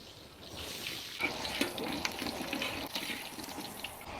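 Water running or poured during home cooking of a mutton curry, a steady splashing wash of liquid that fills the whole clip, with no voices.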